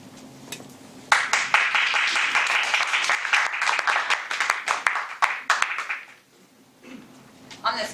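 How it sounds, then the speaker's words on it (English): Toastmasters meeting audience breaking into applause, a burst of clapping that starts abruptly, holds for about five seconds, fades, then returns briefly at the end. "On this clapping business"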